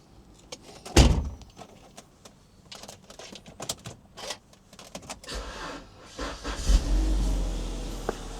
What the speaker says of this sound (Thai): ดมสตาร์ทให้ฟังเสียงเครื่องยนต์นะฮะ